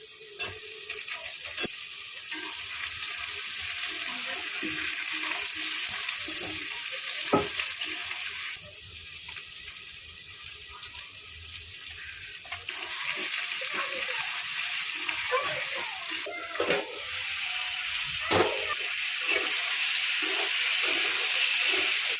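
Potatoes fry in a pan with meat, giving a steady, close sizzle and steamy hiss that lasts throughout, with occasional stirring knocks and scrapes and almost no talking.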